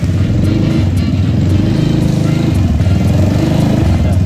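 A standard Vespa scooter engine idles at a Surabaya workshop, a steady, close, loud chugging putter that continues without a break throughout.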